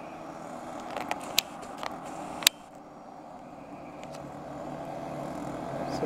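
A Soviet ZIL army truck drives at an airfield, its engine a steady, moderately distant rumble, with a few sharp clicks and knocks early on before the drone evens out.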